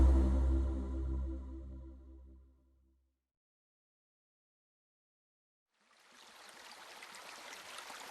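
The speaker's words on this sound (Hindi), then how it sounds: "झरझर बहते झरने व कल कल करती नदियाँ कितनी सुखदाई लगती हैं।" Waterfall and river water rush in as a steady, full broadband stream after a tonal passage fades out and a few seconds of silence.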